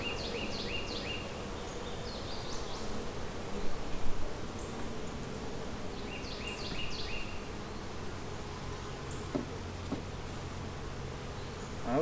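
Honeybees buzzing around an open hive with freshly drawn comb, a steady low hum close by with a few brief louder buzzes as bees fly near.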